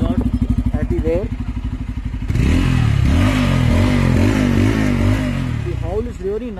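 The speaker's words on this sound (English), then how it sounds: "It is a double barrel exhaust at the rear." A motorcycle with a double barrel rear exhaust idles with a rapid pulsing thump, then revs up hard into a sustained loud howl with rising and falling pitch sweeps, recorded close on a phone.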